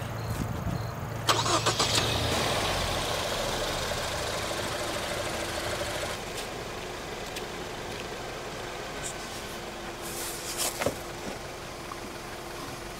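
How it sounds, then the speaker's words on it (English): A car engine cranks and catches near the start, then settles into a rough idle with some knocking, and a few clanks and rattles sound later on. "I got it all hooked up if you want to start your car"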